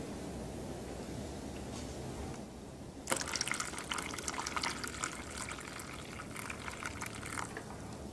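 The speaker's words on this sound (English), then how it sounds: "We have to empty the water." Water is emptied from a container: a faint low hiss, then an abrupt pouring splash starts partway through and runs on as a steady close trickle and drip.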